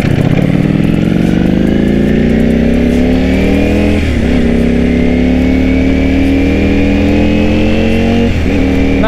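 A Ducati Panigale V4S with a dry clutch, a 1000cc V4 superbike, revs hard and close, its engine note climbing in pitch across two long pulls with brief drops at each gear change, loud and unbroken.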